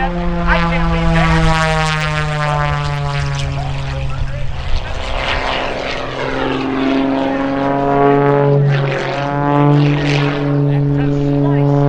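Aerobatic airplane flying low in knife edge at an air show, its propeller engine droning loudly and steadily throughout with rising and falling pitch as it passes, while an announcer talks over it.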